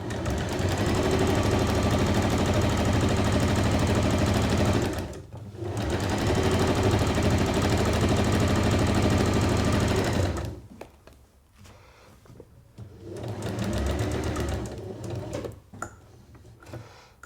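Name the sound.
sewing machine stitching a drawstring bag at high speed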